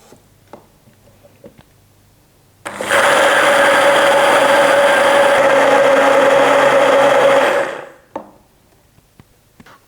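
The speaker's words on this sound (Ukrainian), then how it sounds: "пробиваємо все занурювальним блендером до однорідної консистенції" A steady, loud motorized whir of an immersion blender mixing cheesecake batter runs for about five seconds, starting abruptly and cutting off, with quiet surroundings before and after.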